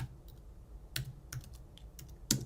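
A few sparse keystrokes on a computer keyboard while typing a Google search, isolated clicks with pauses between them, faint and close, with no talking.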